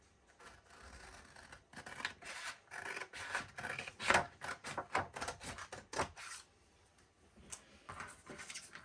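Material for a book box is cut by hand, a quiet series of irregular snipping and rasping strokes that cluster into bursts of scratchy cuts, close up, with no talking.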